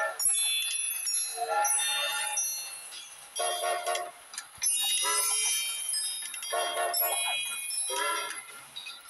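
Game trains from Train Conductor World rumble and toot with tinkling bells and chimes, a busy, continuous layered mix of horn-like tones and jingles filling the scene.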